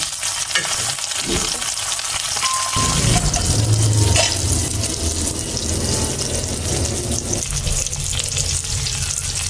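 Beef chapli kabab patties frying in a pan of hot oil, a loud, close, bubbling sizzle with scraping and stirring as they are turned over, continuous throughout.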